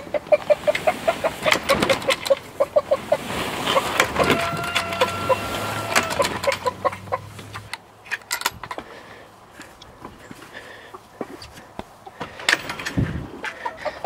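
Icelandic chickens clucking and cackling in a barnyard, with repeated close clucks over rustling and clattering background noise.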